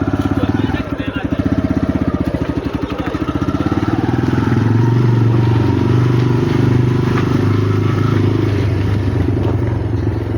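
Motorcycle being ridden by a learner, engine running with a throbbing putter that rises and settles as gears change and the clutch is released, close and loud, with people talking over it.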